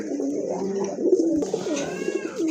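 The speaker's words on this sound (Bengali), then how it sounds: "ফুল এক জোড়া কবুতর আসলে দেখার মতো কবুতর" Pigeons for sale coo close by, with soft repeated throaty calls rolling over one another.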